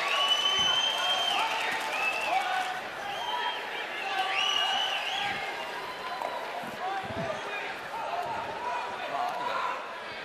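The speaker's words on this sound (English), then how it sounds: "Look at the crowd, of course, getting lots of cheering back and forth" Spectators in a curling arena at a men's world championship between Switzerland and Japan cheer and applaud in waves, with high whistles, scattered shouts and distant thuds, while a commentator talks over the crowd noise throughout.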